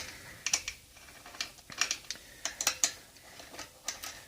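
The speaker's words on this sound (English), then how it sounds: "I use a 3/16 Allen wrench. And I loosen these bolts." Metallic clicks and short scraping ticks from a 3/16 Allen wrench loosening the four Allen bolts on a Harbor Freight Central Pneumatic oil-free air compressor, scattered irregularly and close, with no talking.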